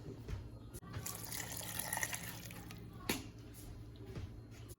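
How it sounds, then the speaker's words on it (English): Water poured from a container into a pot of Texas chili made with beef bouillon, a steady splashing pour running for several seconds close by, with a brief break and a few small knocks. "I'm just going to add water."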